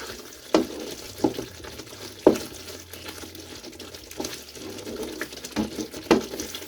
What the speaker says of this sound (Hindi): आमचूर पाउडर, इसको चलाते हैं।